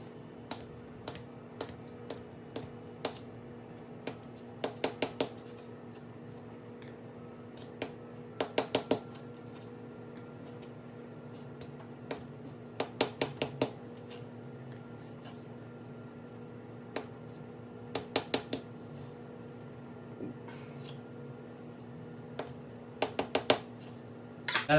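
A knife cuts drained tofu into bite-sized pieces on a board, giving sparse, sharp taps in small clusters over a low steady hum, with no talking.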